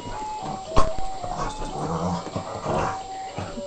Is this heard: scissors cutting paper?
no